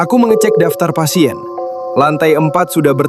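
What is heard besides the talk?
None of the usual background noises is heard.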